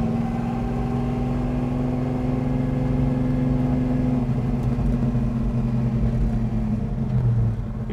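A 1966 Chevrolet Malibu Chevelle underway, its engine giving a steady close rumble with a humming drone that drops in pitch near the end, heard alone with no talking.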